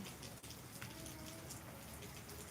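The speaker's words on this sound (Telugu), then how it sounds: "మనం ప్రస్తుతానికి అయితే చూస్తున్నాం వెలిచాలి తుంపురు వర్షం" Soft, steady evening rain pattering on surfaces during the southwest monsoon, a constant fine hiss of drizzle with faint individual drops, quiet and uninterrupted.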